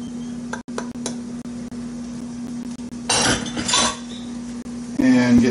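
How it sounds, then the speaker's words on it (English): A spoon stirs pectin into mango habanero jam in a pot, with sharp metallic clinks and scraping strokes over a steady hum, alongside someone talking. "And get that stirred in good."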